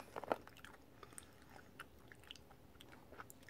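Doritos Crunch Nuts snack being chewed, a sharp crunchy bite followed by soft, irregular crunching and chewing, close up and quiet with no talking.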